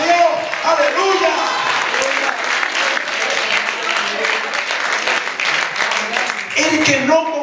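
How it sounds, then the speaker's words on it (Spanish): A church congregation claps steadily and loudly throughout, with a faint voice now and then under the applause. "Alguien aplauda a Dios, por favor."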